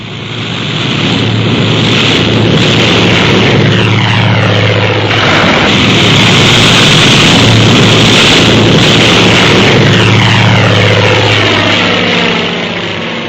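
Loud, sustained drone of World War II-era propeller aircraft engines roaring at full power during takeoff in heavy seas, a dense continuous rumble that swells and holds for over ten seconds.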